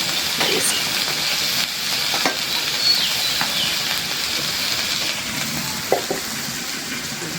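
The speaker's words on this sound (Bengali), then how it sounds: "ভাজিটা হয়ে গেছে একদম ভাজা ভাজা করে দিলাম এখন নামাই নেব" Vegetable bhaji sizzles and fries in a pan, a steady close hiss with occasional scraping stirs and light clinks, no talking.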